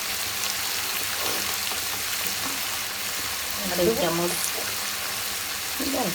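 Ground spices, chili powder among them, sizzle in hot oil with ginger and cumin paste, a steady frying hiss with occasional stirring scrapes and a faint voice in the background.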